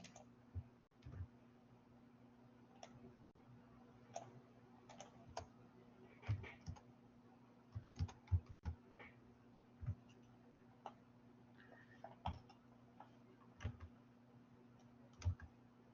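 Faint keystrokes on a computer keyboard, irregular single taps and short clusters of clicks over a low steady hum, close but quiet.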